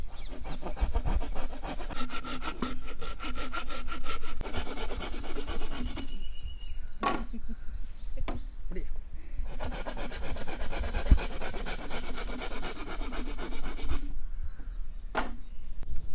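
Bamboo being cut with a hand saw in rapid rhythmic back-and-forth strokes, close and steady, in two long bursts separated by a pause of a few seconds with scattered knocks.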